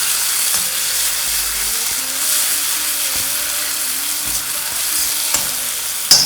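Crushed onion, garlic, ginger and green chilli sizzle and crackle steadily in hot mustard oil, a close, continuous frying hiss with occasional stirring sounds and no talk.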